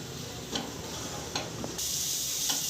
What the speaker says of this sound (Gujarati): બધો જ મસાલો આપણે એકદમ આમાં શેકાઈ જાય ડુંગળીમાં પછી આપણે બટાકાનું મિશ્રણ અંદર ઉમેરી દઈશું